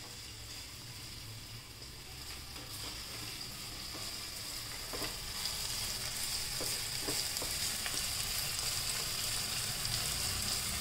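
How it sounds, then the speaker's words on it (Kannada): Sliced onions fry in oil for matka biryani, a steady close sizzle that builds slightly, with occasional stirring clicks and scrapes throughout. "ಅದು ಎಣ್ಣೆ ಒಳಗೆ ಫ್ರೈ ಆದ ಹಾಗೆ ಆಗುತ್ತೆ."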